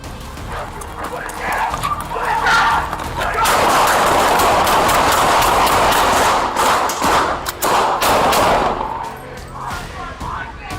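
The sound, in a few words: gunshots fired by police and suspect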